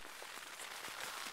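Rain patters steadily on an old, frayed umbrella beside a river in August, a dense close-up hiss with soft drop taps throughout and no talking.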